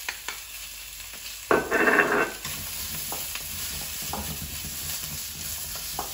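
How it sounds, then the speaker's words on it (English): Garlic and chili dropped into hot sesame oil for beef with green pepper and black bean sauce burst into a loud sizzle for about a second, then settle into a softer crackle with occasional stirring knocks. "And then your garlic and your chili can go in now."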